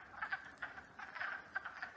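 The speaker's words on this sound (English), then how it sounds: "I think it's frogs." Frogs at a small pond in the woods croak in quick, rhythmic bursts, several calls overlapping at moderate distance with no other sounds.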